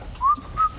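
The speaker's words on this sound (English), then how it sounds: "We could whistle." A person whistles two short notes close by, the first sliding upward and the second held level, with a brief quiet gap between them and nothing else over the faint background.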